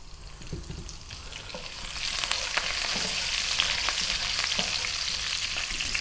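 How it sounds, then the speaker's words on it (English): Cumin seeds and curry leaves frying in sunflower oil over medium-high heat, a steady close sizzle that swells louder partway through, with faint stirring clicks and no talking. "What we're going to do is drop in those cumin seeds. Now we're on and above medium heat, and our curry leaves."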